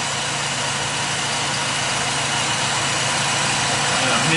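Mazda RX-4 rotary engine idling with a misfire, a steady low-pitched rumble with a slightly uneven, trembling quality, heard close up and continuous; a voice is present.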